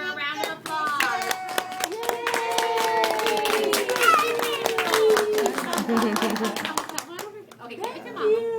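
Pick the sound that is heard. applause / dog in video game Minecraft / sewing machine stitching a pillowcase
applause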